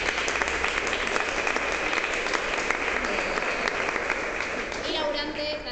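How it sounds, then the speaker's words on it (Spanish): An audience at a union talk on exams, availability and retirement gives a warm round of applause, a dense continuous clatter of many hands that stays steady, with voices audible beneath it toward the end. "agradecerle con un aplauso a Julia Scarenzi"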